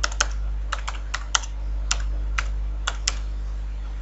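A password typed on a computer keyboard, about a dozen sharp, separate key clicks at an uneven pace, close and clear over a constant low hum.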